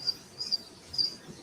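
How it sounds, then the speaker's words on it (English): Crickets chirping outdoors at night, faint high-pitched trills repeating every half second or so against a quiet background. "Crickets are loud tonight."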